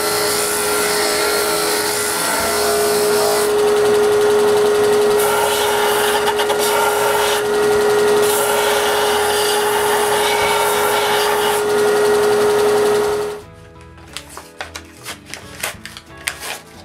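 A sander grinds the ends of walnut beading tools round, a loud steady whine running for about thirteen seconds before cutting off, leaving a few light knocks and handling taps.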